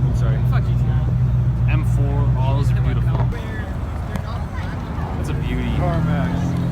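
Nissan GT-R at a cars and coffee meet in Southlake, its engine droning loud and close before the sound eases off as the car passes. Voices talk over it throughout, with background chatter from the crowd.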